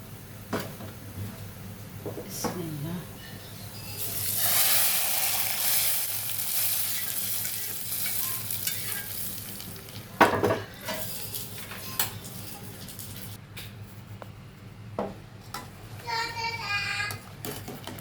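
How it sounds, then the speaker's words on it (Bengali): A baghar tempering hits a pot of mild lentils on a lowered stove, giving a surge of frying sizzle, then spoon and pot clinks as it is stirred in, close up, with a few faint voices. "এখন দিয়ে দিব বাগারটা"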